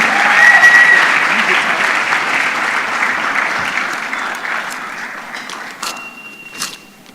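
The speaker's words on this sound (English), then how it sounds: "Give him a round of applause." An audience applauds at an innovation awards ceremony, a loud dense clapping that swells at the start and then slowly thins and fades, with a few scattered claps near the end.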